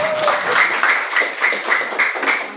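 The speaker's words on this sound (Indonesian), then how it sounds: "Tepuk tangan untuk kita semua." Audience at a training session for Banser cadets applauding, a steady burst of crowd clapping, loud and close, with no talk over it.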